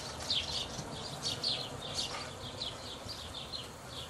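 Honeybees buzz around an open hive frame while a beekeeper works, a faint hum with short, rapid high-pitched passes of bees flying close to the recorder in an outdoor setting.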